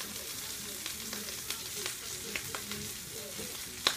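Corn sizzles and fries in a hot pan, a steady close crackle with occasional sharper pops and the faint scrape of stirring.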